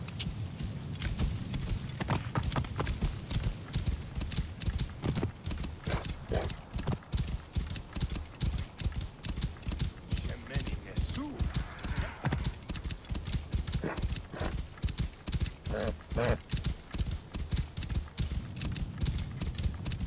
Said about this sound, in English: And I'll just take that horse I was using.